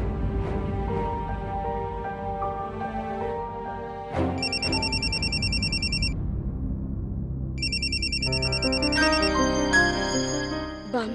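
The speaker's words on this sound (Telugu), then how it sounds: "బామ్మగారి ఫోన్." A telephone rings with repeated electronic ringtone bursts, clear and fairly loud over soft background music in a domestic drama scene, sounding in two separate ringing spells.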